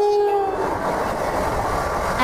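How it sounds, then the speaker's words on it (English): A Spanish AVE high-speed train, rated at 310 km/h, rushes past close by with a steady broad roar and a tonal horn-like whine, loud and continuous throughout. "Alta Velocidad Española, train is from Spain."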